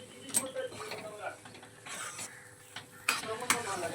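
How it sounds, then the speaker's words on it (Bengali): Green peas with oil and spices are stirred in a pan to dry off excess water, giving repeated scraping and clanking of a spatula against the metal over a faint sizzle. "আমি নাড়তে থাকবো।"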